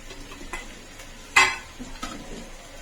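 A spoon stirs brinjal tomato curry with curry leaves and coriander in a pan, giving a few soft scraping strokes and one sharper metallic scrape against the pan, close and unhurried over a faint background.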